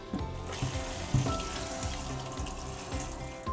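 Water runs from a tap into a sink as cooked rice vermicelli is put into cold water, a continuous close splashing flow with small clunks and bumps throughout, no voices.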